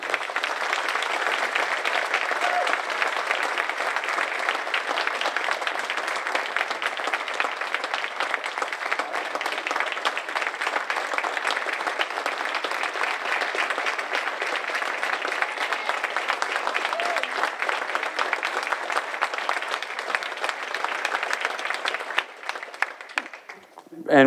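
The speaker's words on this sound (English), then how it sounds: "please join me in giving a thank you round of applause to Brian Bishop" Steady, sustained audience applause at a veterans salute event, dense clapping from a large crowd filling the whole stretch before tapering off at the very end.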